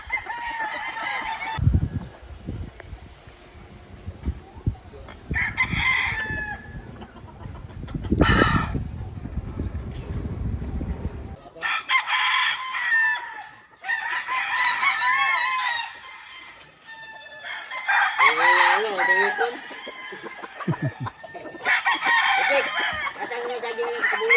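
Roosters crow repeatedly with chickens clucking around them on a farm in Dumanjug, Cebu, the calls loud and close in several bursts, with a brief stretch of handling noise and low rumble early on.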